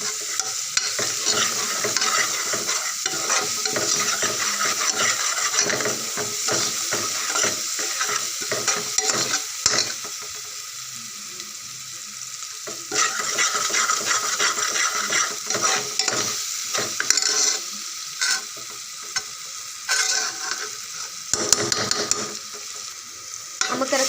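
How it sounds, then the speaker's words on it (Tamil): Masala being stirred in a pan for South Indian crab gravy, a steady scrape of a spoon against metal over continuous sizzling frying, with busy bursts of stirring and short pauses, close and fairly loud. "இதெல்லாம் நல்லா கிளறிடுக்கிறேன்"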